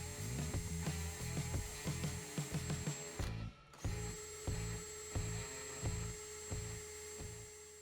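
Power drill drilling out spot welds near the firewall of a 1997 Ford F-350, a whining motor in repeated short bursts with one brief pause, moderately close and fairly quiet, with no voices.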